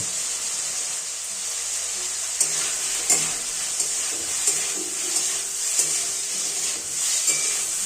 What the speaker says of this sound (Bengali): ধৈর্য ধরে সমস্ত উপকরণ ভালোভাবে নাড়াচাড়া করে কষতে থাকব